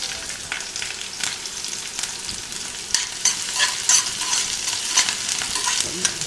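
Onion and green chilli pieces fry in a pan for instant carrot rice, giving a continuous close sizzle with crackling pops and occasional stirring scrapes, no voices.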